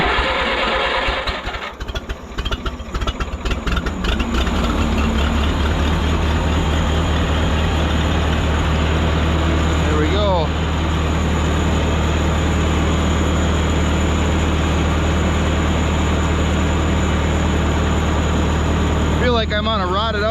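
A Minneapolis Moline 445 tractor engine starts with choke and settles into a loud, steady, rumbling idle, running continuously close by for about twenty seconds with occasional rattles.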